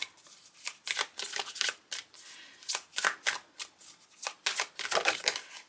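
Tarot cards shuffled by hand for a card reading, a run of quick papery riffling bursts in irregular rhythm, close and fairly soft, with no voice.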